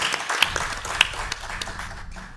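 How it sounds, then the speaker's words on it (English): An audience at a panel on entrepreneurial ecosystems gives brief, light applause, a scatter of soft claps at moderate distance with a couple of sharper single claps standing out. "Can I get some applause from the audience as we move over to Minneapolis?"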